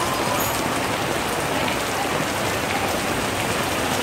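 Heavy rain pours steadily onto a Saigon street, a dense, even hiss of drops striking pavement and surfaces that stays loud and unbroken throughout, with no voices.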